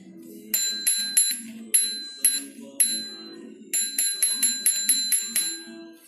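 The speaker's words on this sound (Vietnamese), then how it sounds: "còn chiếc chuông." A Japanese New Balance sports bicycle's handlebar bell rings in a quick, crisp series of bright dings, in bursts of two or three strikes followed by a faster run of rings, close and fairly clear.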